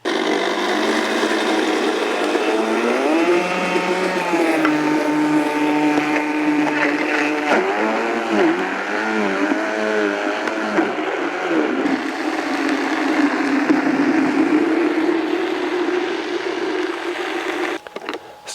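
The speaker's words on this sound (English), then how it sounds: "Let's blend it all together." A blender whirs loudly through juice ingredients, its motor pitch shifting and wavering as the contents churn, running continuously for about eighteen seconds before cutting off near the end.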